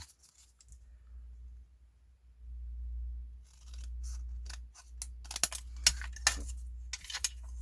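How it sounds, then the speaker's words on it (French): Scissors trimming the corners of a handmade greeting card, a few sharp close snips clustered near the end over a low hum, with no talk. "Ici, nous prenons notre carte et on recoupe"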